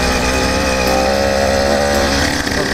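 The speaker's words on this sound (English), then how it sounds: "sound of this exhaust and that little bit of pop it has" A 100cc iron-sleeve motorized bicycle engine runs through a louder-than-stock exhaust. Its buzzing, rasping drone holds steady and loud throughout, with no voices.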